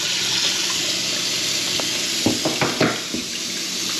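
Water runs from a loose faucet in a steady hiss, with a few brief splashes and drips toward the end, heard up close and alone.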